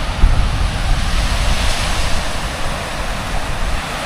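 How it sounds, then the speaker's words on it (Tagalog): Sea surf rolls in at Anawangin Cove, a loud, continuous rushing wash of waves with some wind buffeting on the microphone, close by and with no voices. "So, tingnan natin yung, yung dagat. Kung gaano kaganda dito"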